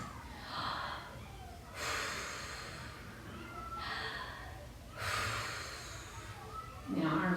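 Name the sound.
deep breathing during a stretching exercise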